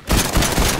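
Rapid bursts of gunfire in the video game Fortnite crack out close and loud in a quick fusillade, several shots overlapping in under a second.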